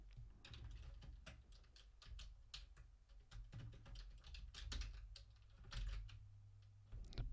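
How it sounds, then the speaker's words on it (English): Keys clatter on a computer keyboard in quick, uneven bursts, soft and close, with short pauses between runs of typing and no voices. "I don't know what I'm typing today."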